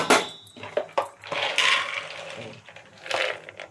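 Peanuts clatter into a pan for palli chutney, a few sharp rattling bursts of hard nuts striking metal, close and moderately loud, with no talking.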